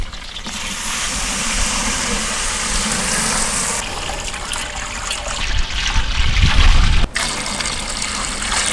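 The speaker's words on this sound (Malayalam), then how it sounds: "നമുക്ക് ഇതിലേക്ക് കുറച്ച് വെള്ളം ഒഴിക്കാം" Water poured into a pot of chicken biryani after mint was added, a steady gushing splash running throughout, loud and close, with no talk over it.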